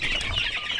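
Free-range village chickens cluck in short, close bursts over a busy farmyard background, with no one talking.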